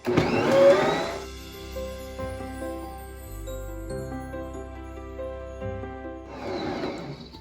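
An electric mixer beating donut dough of egg, shortening, salt and flour gives a loud whirring start, a steady droning hum with shifting pitch, and a louder whir again at the end.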